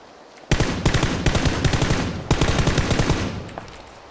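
Automatic gunfire in the video game PUBG Battlegrounds, two loud close bursts of rapid shots, the second following a short gap, with no talking.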